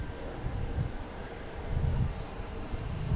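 A JetBlue Airbus A220 arriving at Boston Logan from Reagan produces a steady, moderately loud jet rumble that swells slightly around the middle and holds low and broad throughout, with no voices.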